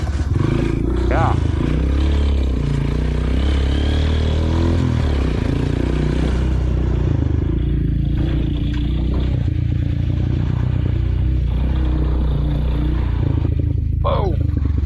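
A Honda CRF230F dirt bike ridden along a wooded trail, its engine buzzing loud and close with uneven throttle, over clattering gear and scraping, with brief shouts and voices mixed in.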